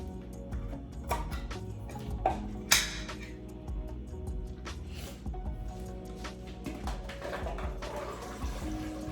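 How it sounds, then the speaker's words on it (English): Tap water runs faintly while canned chickpeas are rinsed in a kitchen, with irregular splashes and clinks from handling the can and strainer, close by and quiet. "I am going to start by rinsing the chickpeas."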